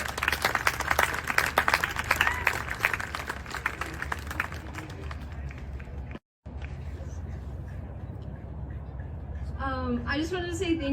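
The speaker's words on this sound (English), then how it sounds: "Everyone give a round of applause for these fabulous humans." Outdoor crowd applauding speakers at a gathering about a missing teen, dense clapping fading into a quieter murmur, with voices starting up near the end.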